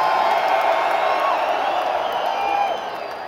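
A heavy metal concert crowd roars and cheers loudly and continuously, a dense wash of shouting and whooping that fades slightly at the end.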